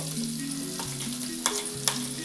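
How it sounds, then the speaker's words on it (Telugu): Cumin seeds and onions fry in hot oil for onion chutney, giving a steady close sizzle with stirring scrapes and a couple of louder spits or clinks. "దీంట్లో జీలకర్ర ఉల్లిపాయలు వేస్తాం కదండి"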